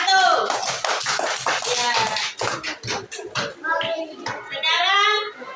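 Children in a classroom clap together for a group that has just presented on sunnah prayers, a brief burst of sharp, overlapping claps amid a teacher's and kids' talk.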